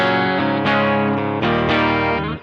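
Electric guitar played through the clean channel of a Cox Studio Tone 20 amp with the pedal bypassed and amp reverb on: a few bright sustained chords struck in sequence, ringing and overlapping, loud and close.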